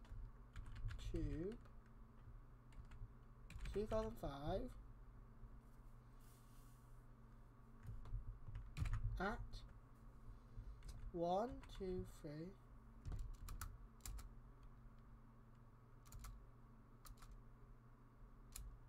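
Keys clatter on a computer keyboard as a password is typed into a website, in short bursts of clicks mixed with a person talking throughout.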